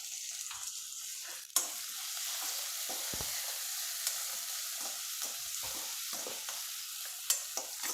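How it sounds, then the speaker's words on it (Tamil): Onions and curry leaves frying in hot oil for a snake gourd stir-fry, giving a steady, close, loud sizzle throughout, with a few faint stirring taps and no talking. "நல்லா பொரியட்டும்"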